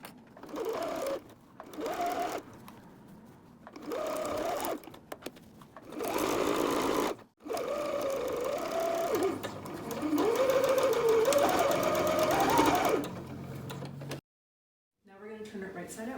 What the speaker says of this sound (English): And now I'm going to sew around a 1/2 inch seam allowance.